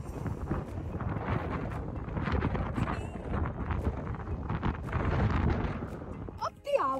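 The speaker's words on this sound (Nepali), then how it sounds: "हावा लागेको" Wind buffeting the microphone during a coastal walk at George in Australia, a continuous roaring rumble that swells and eases, loud and close, ending with a brief higher-pitched sound.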